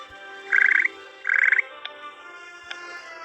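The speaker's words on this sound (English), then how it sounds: "Great, we got a chocolate frog." Chocolate frog croaking in the Harry Potter Hogwarts Mystery video game: two bright, rapid rattling croaks in a row over soft background game music, followed by a couple of faint clicks.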